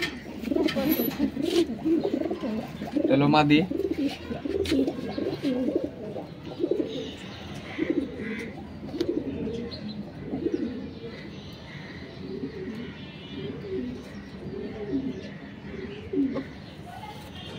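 Pigeons coo repeatedly in a home loft, soft rolling calls rising and falling close by, with someone talking over them at times.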